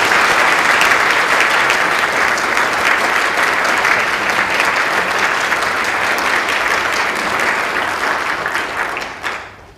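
An audience at a rule-of-law symposium applauds to welcome Justice Mike Chibita, dense sustained clapping that carries on for nearly ten seconds before tapering off.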